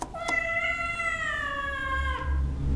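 A single drawn-out cat meow, clear and fairly close, rising then fading over about two seconds against quiet background noise.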